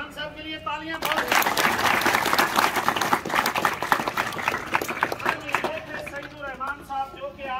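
Audience applause at a school magic show, dense clapping that rises after a voice speaks, stays loud for several seconds, then thins out as talking returns.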